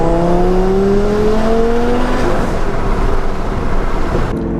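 A 1106whp twin-turbo Lamborghini Gallardo accelerating on the road, its engine note climbing loudly through the gears in the first couple of seconds before settling into a steady, rumbling cruise with road and wind roar.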